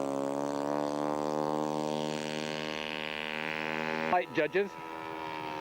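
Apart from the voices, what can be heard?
Stevens Acro scale model airplane taxiing out for takeoff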